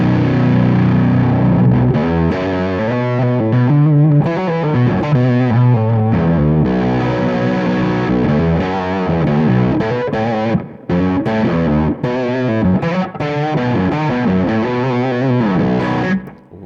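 Electric guitar played through a Zonk Machine fuzz pedal, a thick saturated fuzz tone with sustained chords and melodic phrases, loud and alone, with brief gaps near the end.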